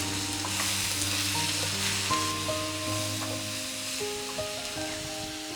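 Onion, tomato, turmeric, chili and salt fry in a pan for chicken gravy, a steady close sizzle running the whole time with light scraping and stirring sounds over it and no talking.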